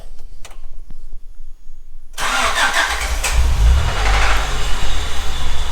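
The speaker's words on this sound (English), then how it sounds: "New battery. Let's give this one a cold start." A third-generation Honda Prelude with a new battery makes a cold start, the engine catching after a quiet pause and settling into a rough, rumbling idle close by, with no talk.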